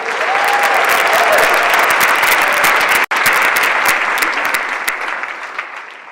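A large audience applauds loudly and steadily at Atlanta's 2026 State of the City address, honoring Mayor Andre Dickens' re-election, with one very brief gap midway and a gradual fade toward the end.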